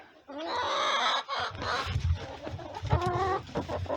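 Hens and a rooster on a chilly morning, clucking and squawking close by in overlapping bursts, with a few rising calls and scuffling movement between them.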